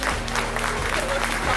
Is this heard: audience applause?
yes